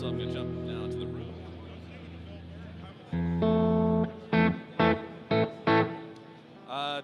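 Room setting on a Chase Bliss Audio CXM 1978 reverb pedal at NAMM 2020: a held chord decays, then a series of short, punchy notes and stabs ring out with a tighter, shorter ambient tail.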